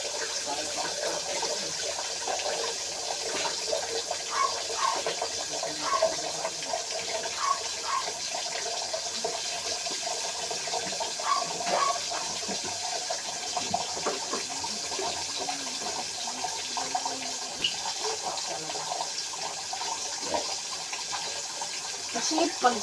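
Water running steadily during washing, a soft constant splashing and trickling at moderate distance, with faint voices and small clinks in the background.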